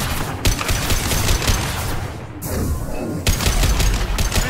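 Dense, continuous gunfire from Mass Effect 2 pounds away in a loud sustained fusillade, briefly thinning in the middle before the heavy shooting resumes.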